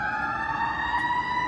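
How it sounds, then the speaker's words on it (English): An emergency vehicle siren wails steadily on a street in Atlanta. The tone is loud and sustained through the brief stretch, with faint traffic rumble beneath it. "all I hear is Hellcats and sirens over here"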